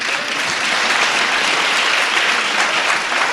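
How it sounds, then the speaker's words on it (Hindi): A church congregation at a fasting prayer service claps in sustained, dense applause, loud and even throughout, with no clear voices over it. "ताली तो बजा।"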